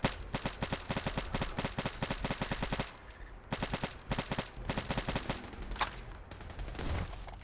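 A weapon in Fallout 4 fires in rapid, loud, even bursts, stops briefly for a clattering reload, then resumes firing in sharp repeated volleys.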